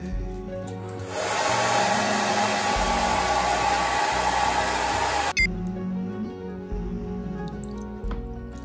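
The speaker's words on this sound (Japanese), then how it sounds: "ドライヤーもしっかりとやっていきます。" A hair dryer drying hair after a bath runs as a loud, steady whooshing blow for about four seconds before switching off abruptly, leaving quieter rustling and faint background noise.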